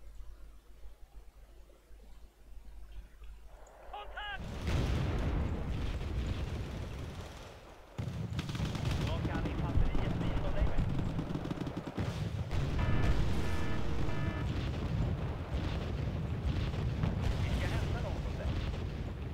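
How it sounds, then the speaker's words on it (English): Tank gunfire in a video game: heavy booming cannon blasts and explosions after a quiet start, then sustained loud rumbling battle noise with further sharp impacts, with some voice chatter mixed in. "Tank, go pew pew at close range."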